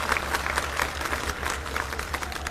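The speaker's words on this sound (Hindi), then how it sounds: "एक बार जोरदार तालियां बजा दो अपने किसान भाइयों के लिए।" Crowd at a farmers' protest rally applauding for the farmers, a loud, dense wash of clapping sustained evenly, with a low steady hum underneath.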